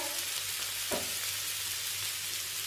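Tomatoes sauté in a pan for a spicy tomato thecha, producing an even, continuous frying hiss with one faint clink partway through.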